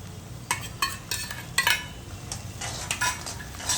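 Veg Manchurian gravy being stirred in a pan, with repeated scraping strokes of a spoon against metal over a soft background sizzle, moderately quiet and without any talking.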